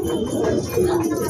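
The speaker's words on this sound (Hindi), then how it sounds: "आज छत पे उतरा जंगली कबूतर" Brief murmuring coos from a wild pigeon on a rooftop, low and steady, heard nearby at modest loudness with nobody talking.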